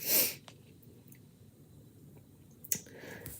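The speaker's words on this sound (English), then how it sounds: "The puppies are sneezing." Puppies sneezing: a sharp, breathy sneeze-like burst at the start, then a quieter snort about two and a half seconds later, close by with soft rustling between.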